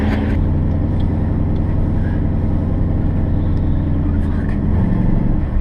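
396 big block Chevy V8 running, a loud steady low rumble throughout with a brief rise in revs near the end, people talking faintly over it.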